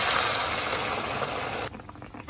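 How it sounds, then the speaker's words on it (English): Prepared morel soup pours into a pot in a steady, loud liquid rush that stops abruptly, leaving brief quiet clinks. "Pour in the prepared morel soup."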